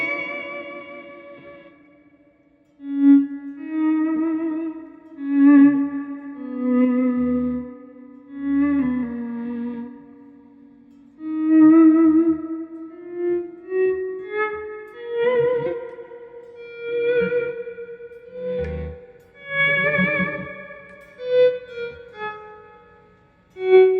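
Guitar played through a Fender '63 Vibroverb Reissue combo amp with its spring reverb: clear, ringing single notes and chords that bloom into a wet, echoing tail, played alone with no voices.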